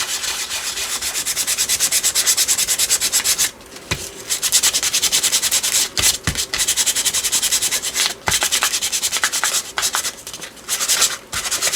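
Sandpaper scrubs back and forth across paper to distress it, a steady rapid rasping broken by several short pauses, close and alone.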